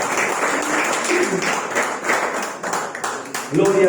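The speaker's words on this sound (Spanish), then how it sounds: "Den un fuerte aplauso al Señor." Applause from a church congregation, a dense spread of clapping that carries through the whole stretch under a preacher's voice and music.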